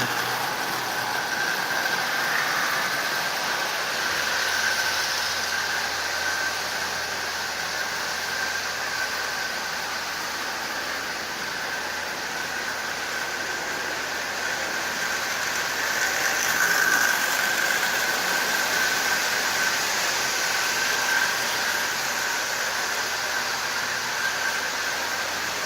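A Marx toy train runs on old Lionel track in a home train room, its motor producing a steady whirring hum with a faint high whine, unbroken and fairly close for the whole stretch, with no talk.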